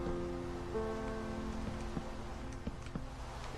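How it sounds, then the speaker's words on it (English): Rain falling in the video game Minecraft, a steady soft patter with a few louder drops near the end, alongside a faint low tonal hum. "I thought it stopped raining, but it didn't."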